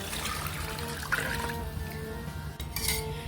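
Water is poured into a cooking pot for a chicken nihari, trickling and splashing unevenly with faint metallic clinks from the pot, close and fairly quiet.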